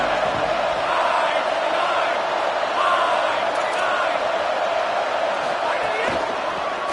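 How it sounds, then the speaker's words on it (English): A stadium crowd roaring at an Indiana vs Washington college football game, a loud, sustained mass of cheering and yelling with occasional sharper shouts and thumps, continuous throughout. "This crowd ready to make its presence known."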